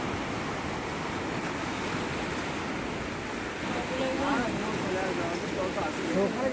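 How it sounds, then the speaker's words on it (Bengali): Ocean surf roars at Digha beach in a continuous wash of noise, waves breaking and swelling louder toward the end, with wind buffeting and voices faintly mixed in. "বড় ঢেউগুলো আসছে।"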